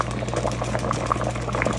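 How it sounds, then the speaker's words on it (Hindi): Potatoes boil in a pot of water on a home stove, a steady bubbling and popping with a constant low hum beneath, close and even throughout. "आप भी हमेशा आलू ऐसे बॉयल किया करें।"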